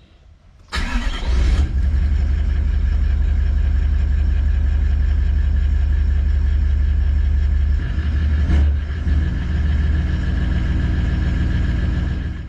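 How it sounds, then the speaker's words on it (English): A car engine cranks and catches with a loud start, then settles into a steady, close idle that runs on with a brief blip partway through. "I'll start the car and we'll see"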